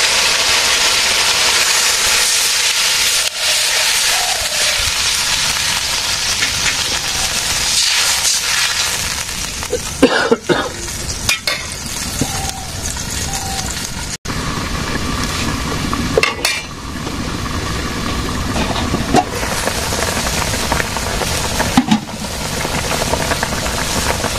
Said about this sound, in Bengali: তরকারি কষানো হচ্ছে আমি একটু ঝোল দিয়ে দেবো